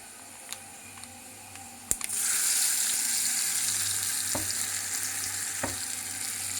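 Dal and tempering spices hit hot oil in a pan with a sudden loud sizzle that settles into steady crackling frying, preceded by a few light clinks and taps, with no talk.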